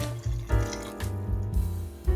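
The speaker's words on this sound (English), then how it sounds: "So we have about 2 1/3 cups of just plain water. And add that." Plain water poured into an Instant Pot for Hoppin' John, a steady splashing pour with a fuller gush near the start and end, close and fairly loud, no talking.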